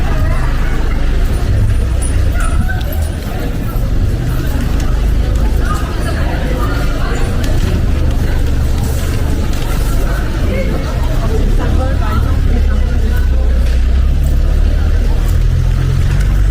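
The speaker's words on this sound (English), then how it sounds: "There's a car coming through." Car easing through a crowded city street in Germany among bikes and pedestrians, a low engine rumble continuous underneath a busy babble of crowd voices and street noise, with people talking close by.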